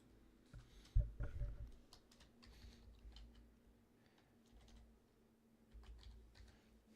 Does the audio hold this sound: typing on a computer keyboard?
yes